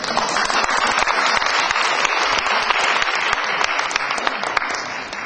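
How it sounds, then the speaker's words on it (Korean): An audience at a civil defense training lecture gives National Assembly member Kim Hee-guk a loud welcoming round of applause, a thick continuous wash of clapping. "김희국 국회의원님을 큰 박수로 환영해 주시기 바랍니다"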